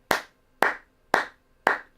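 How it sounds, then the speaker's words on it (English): Four crisp, close hand claps land at an even, steady pulse, marking the downbeats of a bar with nothing else audible between them. "I'm just going to clap the downbeats"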